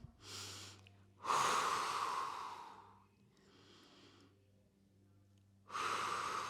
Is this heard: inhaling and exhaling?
yes